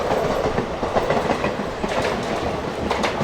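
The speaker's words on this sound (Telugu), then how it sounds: "ఏదో ట్రైన్ అయితే వెళ్ళిపోతుంది, అదే ట్రైన్ చూద్దాం" The Circar Express, running from Puducherry to Kakinada, rumbles past close by, its wheels clattering in a fast steady clickety-clack rhythm, loud and continuous.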